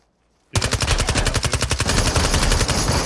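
Rapid automatic gunfire in the battle royale video game Super People erupts abruptly after brief silence, a loud sustained burst of closely spaced shots.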